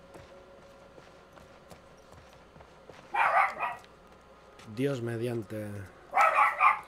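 A dog barks a few times in a tunnel area of the video game The Last of Us Part II, sharp bursts in the middle and near the end, over quiet game ambience with someone talking.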